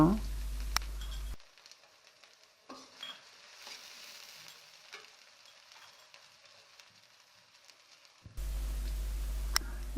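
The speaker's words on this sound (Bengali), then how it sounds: "তেলটা যখন গরম হয়ে আসবে দিয়ে দিচ্ছি এক কাপ পেঁয়াজ কুচি পেঁয়াজগুলো হালকা করে ভেজে নেব" Chopped onions fry in hot mustard oil in a kadai with a soft, steady sizzle and some stirring. The sizzle drops away for a stretch in the middle and then returns, with a person talking over parts of it.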